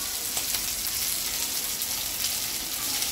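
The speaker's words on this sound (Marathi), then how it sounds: "फ्राय होत आधी आहे कोळंबी" Prawns frying in a hot pan give a loud, steady, dense sizzle that hisses continuously and evenly throughout, close up and alone.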